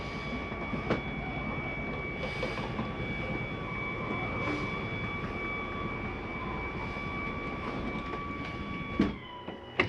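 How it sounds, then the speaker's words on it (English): An Avalanche 320RK RV's living room slide-out retracting, heard as a steady motorized hum with tonal whine that runs evenly throughout, ending with a brief clunk as it closes. "And in turn, your living room closes up."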